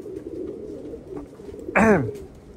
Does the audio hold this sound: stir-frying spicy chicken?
no